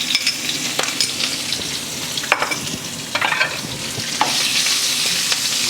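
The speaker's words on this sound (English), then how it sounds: "And I will let it fry a little bit." Garlic and ginger paste frying in a pan gives a close, steady sizzle broken by a few crackling pops and soft stirring scrapes.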